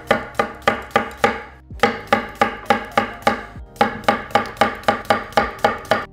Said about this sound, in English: So cucumber, I actually don't like my pickles super thin, so I'll go for a little bit thicker pieces.